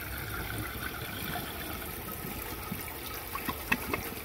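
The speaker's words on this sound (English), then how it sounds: "I'll drain the tank a little bit." Water trickles and drains steadily from the tank of a 2007 Gerber Allerton toilet, a continuous close hiss of running liquid with a few faint clicks near the end.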